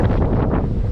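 Strong wind blows on the top of Mullayanagiri, the highest peak in Karnataka, a loud continuous rumbling gust battering the microphone for the full second, with no voices.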